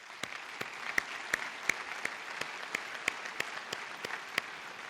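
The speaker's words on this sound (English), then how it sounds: "I think that deserves a big round of applause" An audience at a senior athletic banquet gives a short round of applause, a steady patter of many hands with a few sharp, louder claps standing out at regular intervals.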